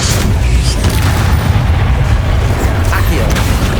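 An Incendio fire spell is cast in Hogwarts Legacy, giving a steady, heavy booming roar with crackling bursts that runs loud through the whole stretch amid busy combat noise.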